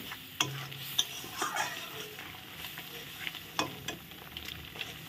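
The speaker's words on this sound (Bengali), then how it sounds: "জলটা দিয়ে আবার মশলাটা আরেকটু কষিয়ে নেব ভালো করে" Kashmiri chili spice paste sautéing with a splash of water in a pan for Kashmiri aloo paneer: a quiet, steady sizzle broken by sharp spatula scrapes and taps at irregular intervals, close by, with no talking.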